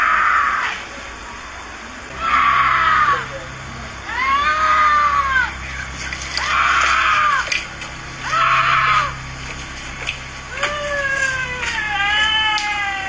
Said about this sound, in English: A woman screams out for help as she seemingly walks calmly down the street